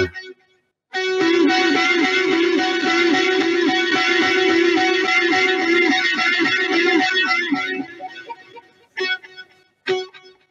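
A heavily distorted, buzzy electric guitar chord from two transistor square-wave fuzz distortion boxes rings out for several seconds and fades, followed by two short fuzzy stabs.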